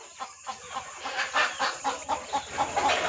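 Village chickens roosting on bamboo at night cluck softly in a steady series of short calls, close by, over a faint high hiss.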